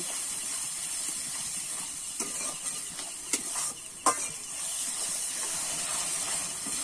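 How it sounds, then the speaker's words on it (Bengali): Tomato paste fries with garlic and ginger in a pan, giving a continuous steady sizzling hiss broken by a few soft clinks and scrapes from stirring. "এবারে দিয়ে দেবো টমেটো বাটাটা, সেটাও কিন্তু আমি নেড়ে চেড়ে কষিয়ে নেব।"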